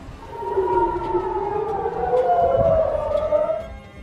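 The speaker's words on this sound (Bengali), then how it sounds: "এ সময় দেশটির আকাশে সাইরেন বেজে ওঠে।" An air raid siren sounding in Israel during a missile attack, a single wailing tone that rises and falls, heard alone at moderate loudness.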